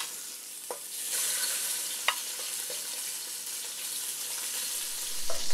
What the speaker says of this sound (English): my chicken pieces have finished frying up